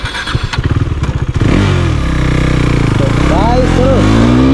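KTM Duke 390 motorcycle pulling away on a first ride, its single-cylinder engine thumping unevenly at first, then settling into a loud, steady drone and rising in pitch as it accelerates; a voice speaks over the engine.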